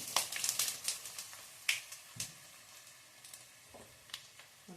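Asafoetida and other tempering going into hot oil for puri uppittu, giving a crackling sizzle with bursts of sharp pops that thin out toward the end, close and moderately loud.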